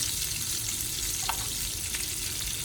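Shrimp cooking in leftover olive oil for a Cajun gumbo make a continuous, even sizzle and fry, with a faint stirring tick or two and no voices.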